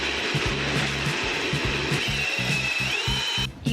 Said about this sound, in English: and we're gonna start blending.